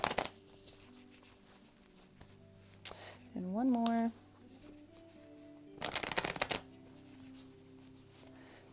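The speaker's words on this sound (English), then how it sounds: "I'm going to shuffle these a couple times." Tarot cards shuffled in two short bursts, a riffle near the middle and a louder one later, with a brief spoken phrase between them.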